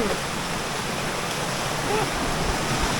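Strong, swollen floodwater from the fields rushes past in a loud, unbroken roar that fills the whole clip without any pause.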